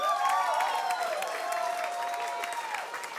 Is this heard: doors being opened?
no